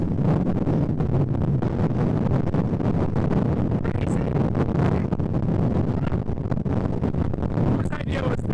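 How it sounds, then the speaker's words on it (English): Heavy, cold sea wind on the Maine coast buffets the microphone without letup, a dense, loud rushing roar filling the whole stretch. "It's so cold. It's so windy."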